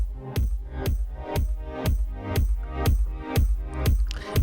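A deep electronic kick drum in Bitwig shaped by an LFO Tool style volume effect thumps in a steady, even pulse, about two beats per second, each hit swelling and pumping, loud and alone.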